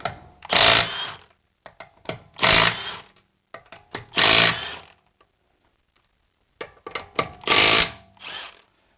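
Milwaukee mid-torque impact wrench with a torque stick tightening bolts, four loud rattling hammering bursts about a second each, separated by short gaps, close up with no talk.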